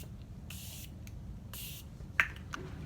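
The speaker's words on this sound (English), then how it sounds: "So, setting spray." Two short bursts of a fine aerosol makeup setting spray hiss close by, each lasting about a third of a second, followed by a small click.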